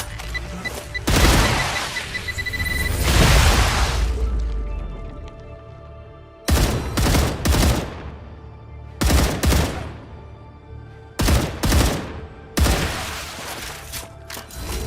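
Grenade blasts in the sci-fi video game StarRupture: a long rumbling explosion roll followed by a series of sharp, loud bursts with gunfire-like crackle, separated by brief gaps.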